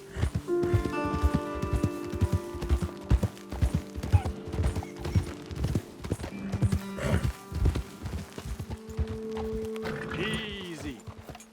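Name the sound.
horses' hooves walking, from video game Red Dead Redemption 2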